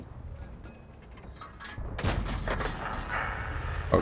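Tank gunfire in the World of Tanks video game. Scattered distant thuds come first, then about two seconds in a loud close boom leads into continued heavy rumbling and crackling blasts.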